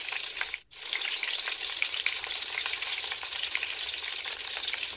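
Snack rolls fry in a mix of oil and ghee, a close, dense, steady crackling sizzle that drops out briefly early on and then resumes unbroken, with no talking.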